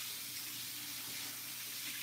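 Hot water running steadily from a sink faucet during hair washing, a continuous close hiss and splash with no voices.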